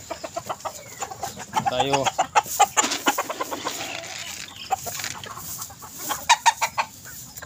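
Backyard farm chickens cluck in a rapid series of short, sharp calls, close by and fairly loud, with a brief spoken word in the middle.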